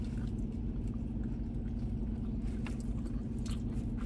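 Soft, close biting and chewing of a cheesy double-decker bacon burger from a fast food restaurant, quiet moist mastication sounds over a low background hum.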